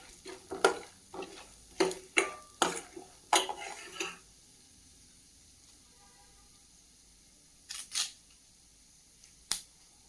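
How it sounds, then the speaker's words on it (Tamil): Spices spluttering and crackling in hot oil for poori masala, a few sharp pops in quick succession at the start, then a quiet sizzle with two more isolated pops later. "நல்லா இது பொரிஞ்சு வரட்டும்."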